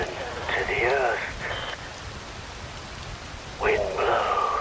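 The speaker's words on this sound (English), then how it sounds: "Wind blows, rain falls." Rain falls in the video game Metal Gear Rising: Revengeance as a steady hiss beneath a spoken voice, which drops away briefly before returning.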